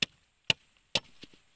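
Sharp knife chops on a board, three distinct strikes about half a second apart, followed by a couple of lighter taps, close and clear.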